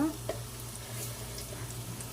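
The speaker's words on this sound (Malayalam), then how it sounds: "കരിയാപ്പില ഇട്ടു വെളുത്തുള്ളി ഇട്ടു അതൊന്ന് ആ പച്ചപ്പ് വെളുത്തുള്ളിയുടെ പച്ചപ്പ് വേണം ഒന്ന് മാറിനടം വരെ ഒന്ന് ഇളക്കുക" Curry leaves and garlic frying in oil while being stirred make a short, soft sizzle with faint scraping, quiet and steady, with a voice speaking briefly at the start.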